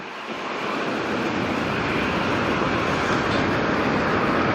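An airliner passes overhead near Sydney Airport, a broad, steady engine roar that swells in the first half-second and then holds loud and close for the rest of the clip, with no talking.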